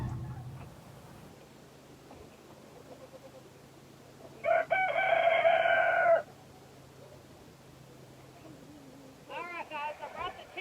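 Rooster crowing once in a winter farm chicken coop, a loud, clear crow in the middle against low background hum, with softer clucking near the end.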